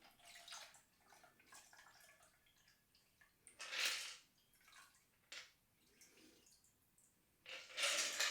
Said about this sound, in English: Get your strainer and just strain it into your glass.